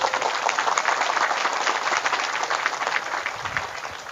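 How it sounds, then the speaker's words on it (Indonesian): Crowd at a Maulid gathering in an Islamic boarding school claps together, a loud, dense burst of applause close by that holds steady and eases off slightly at the end, with no talking. "Tepuk tangan."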